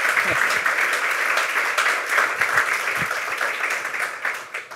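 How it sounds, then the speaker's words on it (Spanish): An audience applauds to welcome Alfredo at a Spanish book presentation, a dense, steady wash of clapping from a crowd that holds loud and even for the whole stretch, with a few voices faintly under it. "Por favor, un aplauso para él"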